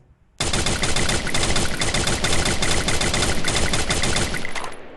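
Sustained rapid automatic gunfire in the video game Garena Free Fire, loud and continuous for several seconds with no speech.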